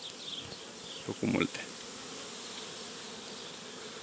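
Honey bees swarm around a hive, giving a faint, continuous buzzing with a brief louder burst from a bee passing close, and a short spoken remark over it.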